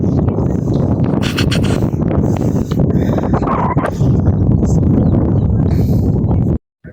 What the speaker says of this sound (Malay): Bezanya dekat sini angin kuat, kat belakang tu angin kurang.